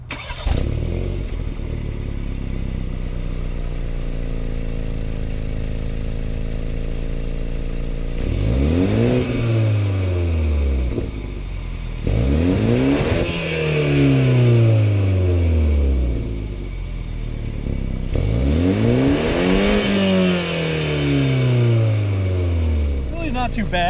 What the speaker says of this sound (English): let's grab a startup of this car